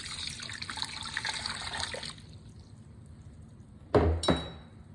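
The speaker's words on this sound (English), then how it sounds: "To my stand mixer, I'm going to add 2 1/4 cup of warm water" Warm water poured into a stand mixer bowl, a trickling stream for about two seconds, then quiet, followed by two sharp clinks near the end.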